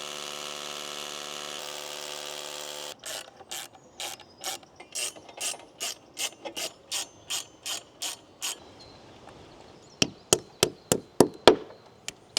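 A socket ratchet clicks in a rapid, even series of sharp ticks, then after a pause a few louder, slower clicks; preceded by a steady mechanical hum.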